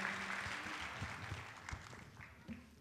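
Applause from an audience at a Tokat awards ceremony, greeting the mayor; dense, fairly faint clapping with a few sharper claps over low background murmur.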